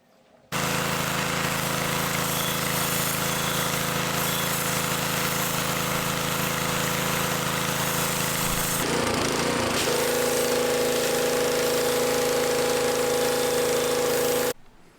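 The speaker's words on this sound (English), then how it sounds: "I'm gonna redo or re-sandblast it and really get it down to bare metal" Sandblasting Ford Bronco parts down to bare metal, a loud steady broadband hiss with an engine-like rumble running continuously for about fourteen seconds and shifting in tone near the end, with no talking.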